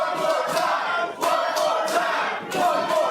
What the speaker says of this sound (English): The crowd wanting Caden to stick it to Tony Toxic.